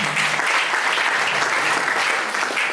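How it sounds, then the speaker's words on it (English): Audience at a paediatric society gathering in Ghana breaking into sustained applause, dense and even clapping that stays loud and close for the full stretch with no talk over it. "Please, another round of applause for her."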